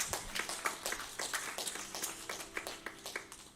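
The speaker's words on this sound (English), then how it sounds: "Give the child a round of applause." An audience at a Sunday satsang at Maharishi Dayananda Gurukula applauds a child, a loose, scattered round of individual claps that stays moderately loud and fairly close for a few seconds.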